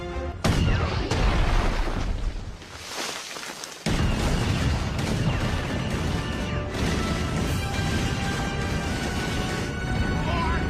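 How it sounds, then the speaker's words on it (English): Many guns firing together in a loud, dense barrage of crashing blasts and booms, broken by a brief lull before the heavy volley resumes and runs on steadily. "every gun we have to fire on that man."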